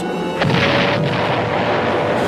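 A heavy boom from an armor-piercing delayed-action bomb striking the battleship Arizona during the Japanese attack on Pearl Harbor bursts over a constant loud roar, followed by a second duller thud and rumbling aftermath.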